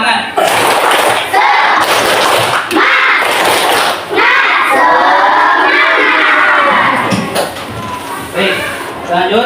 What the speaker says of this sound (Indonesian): kita ulangi tepuk semangatnya